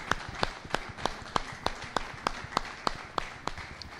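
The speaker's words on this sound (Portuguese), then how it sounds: "A Ele uma salva de palmas." A church congregation claps in a steady, evenly spaced rhythm of about three claps per second, sharp and fairly close, with no talking over it.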